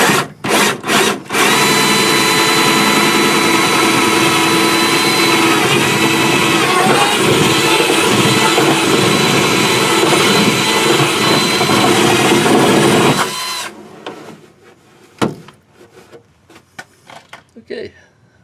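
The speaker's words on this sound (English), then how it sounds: "While I'm down here, I'll drill the other hole." A power drill bores through a plastic wheel well liner during a snow plow fender flare installation, a loud steady whine running for about thirteen seconds, then stopping abruptly into quiet handling noises and a few sharp clicks.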